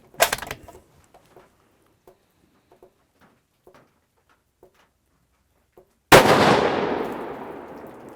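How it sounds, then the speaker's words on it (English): A single loud gunshot from a rifle fired bare muzzle without a suppressor, sharp crack with a long ringing echo trailing off, preceded by a magazine rattle and quiet handling clicks. "And now we're shooting bare muzzle."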